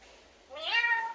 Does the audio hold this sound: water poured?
no